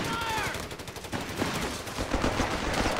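Machine gun fire in a 4v4 Company of Heroes 3 battle: dense, continuous rapid bursts of gunfire mixed with other shots, loud and unbroken throughout.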